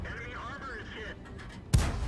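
A single artillery shot from World of Tanks booms out near the end, a sharp loud blast with a rumbling tail, following a stretch of quieter game ambience.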